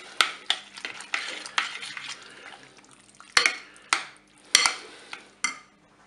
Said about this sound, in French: Maintenant, je vais ajouter mon mélange crème fraîche moutarde. Je vais mélanger.